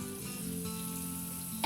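Onions are dropped into hot oil in a rondeau pan on a stove, giving a quiet, steady sizzle and frying hiss with a faint background hum. A brief louder burst comes right at the end.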